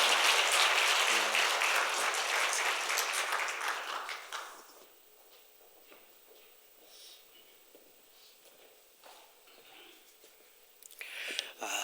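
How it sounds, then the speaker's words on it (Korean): A church congregation at a Christmas-week service gives a burst of encouraging applause, loud and dense at first, then thinning into scattered claps and quiet murmuring before a faint rise at the end. "격려의 박수 한번 드리도록 하겠습니다"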